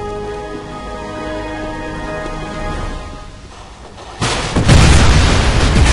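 A grenade goes off in the video game Wolfenstein: sustained tonal game sounds give way to a sudden loud, deep blast that rumbles on to the end.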